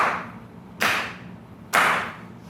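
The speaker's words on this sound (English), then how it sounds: "I clap my hands 3 times" Two loud, sharp hand claps ring out in a stage performance of Cyrano de Bergerac, spaced about a second apart, each followed by a brief decaying reverberation in a room.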